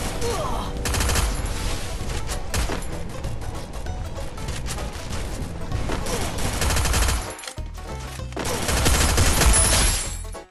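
Sustained bursts of gunfire in the mobile shooter Free Fire, loud and dense for several seconds, a brief drop to near silence, then another heavy volley that cuts off abruptly.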